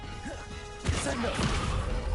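Descendo spell slamming a foe to the ground in the Hogwarts Legacy video game, a sudden loud crashing impact with a whooshing burst and rumbling debris that follows a quieter stretch of game sound.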